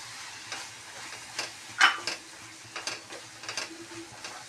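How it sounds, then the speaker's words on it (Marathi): Chole masala spices get stirred in a pan: a spoon scrapes and clicks in scattered irregular strokes over a faint steady sizzle, moderately quiet and close, with no voices. "हे सर्व मसाले मिक्स करून घेऊया."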